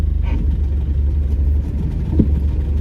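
Car engine during a driving lesson with the car reversing, a steady low rumble at idle to light throttle throughout, close and fairly loud, with a brief clunk partway through.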